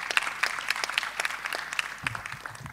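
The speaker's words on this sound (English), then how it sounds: "Welcome her, please, with a warm applause." A conference audience at a library association's president's session applauds warmly to welcome a speaker to the stage, a steady dense patter of many hands heard from within the hall.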